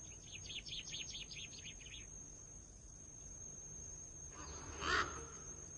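Small birds sing in a quiet pine forest on La Palma, among them the common chaffinch: a faint rapid trill of repeated chirps comes first, then a brief louder call near the end over a low steady hush.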